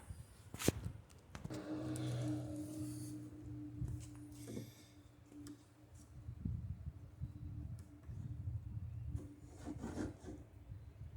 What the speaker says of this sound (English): we can sand the front edge of the board